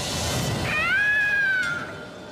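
A single drawn-out cat meow, clear and fairly close, rising and then falling in pitch over about a second against a low background hum, with no talking.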